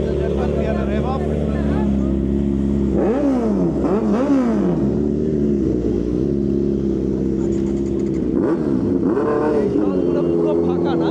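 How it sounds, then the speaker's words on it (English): A motorcycle engine with straight pipes revs hard and loud up close, its pitch sweeping up and falling back in several distinct blips over a steady rumbling idle. "Ladies and gentlemen, we have a rev up."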